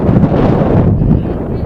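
Strong wind gusts buffet the microphone at an outdoor varsity baseball game, a loud continuous low rumble with rustling that eases slightly toward the end.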